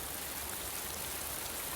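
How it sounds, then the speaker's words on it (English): Steady, even rain falls in a cartoon scene, a dense continuous hiss with no talk over it. "I wish it would stop raining."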